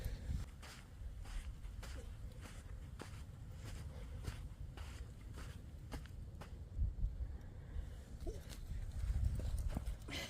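A horse walks on Assateague Island, its hooves clip-clopping in a steady, fairly quiet rhythm against faint outdoor background noise.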